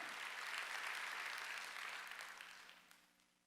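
A church congregation at a Korean Sunday worship service claps together in a loud burst that gradually fades away, with no talking.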